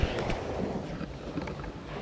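Strong sea waves surge against a coastline after rain, making a continuous broad roar with wind buffeting the microphone and no voices.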